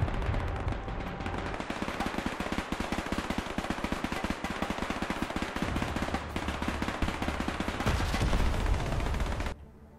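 Rapid, sustained automatic gunfire and dense volleys aimed at enemy positions in the war strategy game Men of War II, loud and continuous for most of the stretch before cutting off abruptly near the end.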